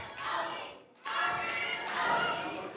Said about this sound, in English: This crowd still chanting